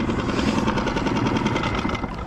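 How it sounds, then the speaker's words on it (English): A fishing boat's engine runs steadily on open water during a crappie outing, a loud, continuous mechanical drone with a fast rattling pulse and no voices. "turn off the engine."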